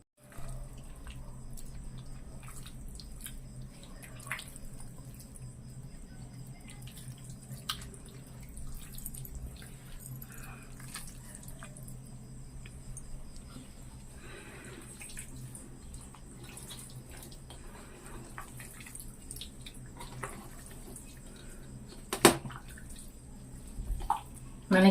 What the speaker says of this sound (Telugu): ఇంతవరకు ఆయిల్ పోయలేదు, ఇప్పుడు ఆయిల్ పోస్తున్నాను.